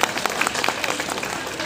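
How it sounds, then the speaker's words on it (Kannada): An audience at the final-day program of a church Vacation Bible School claps loudly in a dense, continuous burst of applause that fills a hall, with a few voices faint beneath it. "ಜೋರಾದ ಚಪ್ಪಾಳೆ"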